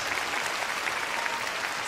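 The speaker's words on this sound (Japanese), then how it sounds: "ピアノ演奏の福間幸太郎さんにも大きな拍手をお願いします。" Audience at an ice show in Kobe applauding a skating performance set to piano and song, a dense, even wash of clapping from a large crowd with no voices.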